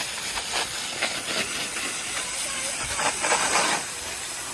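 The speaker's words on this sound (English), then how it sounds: "So we're gonna try to rinse this off a little bit more." Water spray rinsing gravel and ground fabric in a homemade kids' gravel pit, a steady close hiss of spraying water with uneven surges as the stream moves across the stones.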